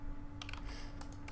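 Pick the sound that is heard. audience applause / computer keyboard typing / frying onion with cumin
computer keyboard typing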